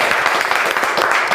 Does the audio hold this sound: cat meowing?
no